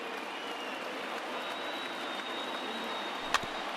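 A baseball stadium crowd in MLB The Show 20, about 35,000 fans on their feet late in a Cubs versus Nationals game, gives a steady wash of cheering and applause, with one sharp clap near the end and no talking.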